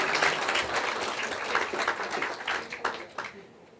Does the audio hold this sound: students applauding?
yes